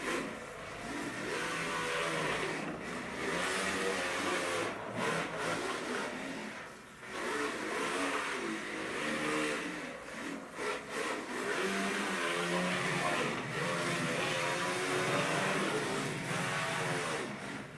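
A small 1/28-scale RC car with a Furitek Cyclos brushless sensored ESC and Hellfire motor drives continuously, giving a steady high motor whine that rises and falls with the throttle, close and sustained throughout.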